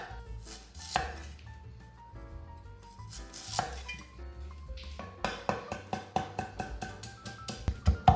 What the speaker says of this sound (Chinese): 再切成姜丝。